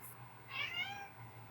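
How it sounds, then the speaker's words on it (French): A cat that has just woken gives a single short meow, moderately close but soft, over a quiet room hum. "mon chat vous dit bonjour, il vient de se réveiller"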